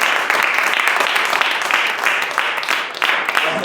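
A church congregation claps together at a Hindi-language worship service, a dense, steady wash of many hands filling the room without pause.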